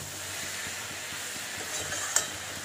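Dalma vegetables frying in a pan over a high flame give a steady broadband sizzle with soft, regular stirring scrapes and one brief sharp clack near the end, with no voices.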